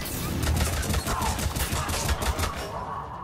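Rapid gunfire in the video game Mass Effect 3 on Earth, dense overlapping bursts of automatic shots firing loudly and continuously with no pause.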